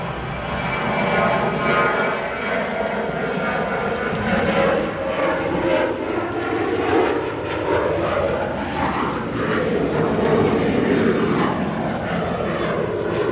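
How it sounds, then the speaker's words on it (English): A Southwest Boeing 737-700 jet departs O'Hare with a loud, sustained engine roar that holds steady across the whole stretch, its pitch shifting gradually as it passes. "Another 700 series 737, they're departing."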